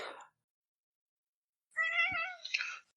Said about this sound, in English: she comes over in front of me and she starts meowing